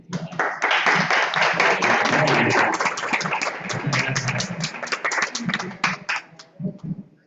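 Applause from an online event audience, a dense patter of clapping filling most of the clip and thinning into a few scattered claps near the end, with faint voices underneath.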